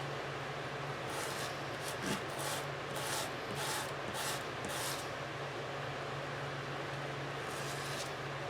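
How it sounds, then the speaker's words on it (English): Sanding off a burr on a segmented pen blank: a series of short back-and-forth rubbing strokes over a steady background hum, several strokes in the first five seconds and a couple more near the end. "We need to sand that off."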